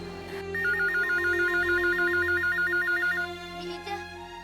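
A telephone rings with a loud, steady electronic warble that repeats rapidly for a few seconds before cutting off, heard alone without voices.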